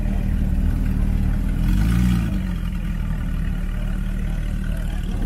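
Porsche GT3 RS sports car passing on a Southern California freeway, a swelling mid-pitched engine roar peaking briefly over steady loud road and traffic rumble, then fading back into the background noise.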